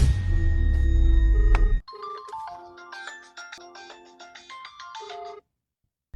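A mobile phone ringtone plays a bright, repeating electronic melody that stops abruptly, following a louder burst of other sound.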